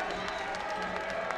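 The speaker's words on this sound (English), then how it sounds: "Listen to this crowd." A basketball arena crowd at a college game between the Miami RedHawks and Western Michigan roars in a steady, dense wash of cheering, with a play-by-play radio voice talking over it.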